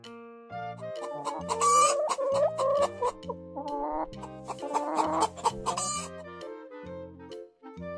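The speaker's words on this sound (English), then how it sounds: "Hen." A hen clucks in a busy, uneven run of short calls over a steady musical backing, fairly close and clear.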